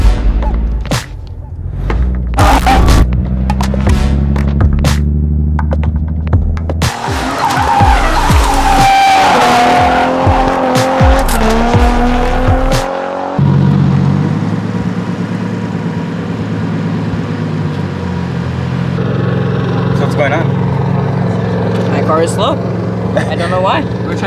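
A car is driven hard on a track, its engine roaring through gear changes and tires squealing and skidding loudly, with thumps and shifts in tone as it goes.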